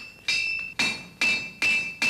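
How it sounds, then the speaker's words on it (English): Five sharp metallic strikes from a farrier's cat's head hammer beating a clip into a horseshoe ring out at a steady pace, each leaving a bright, lingering ring. "There's the clip being beaten into the shoe now with the side of the cat's head hammer."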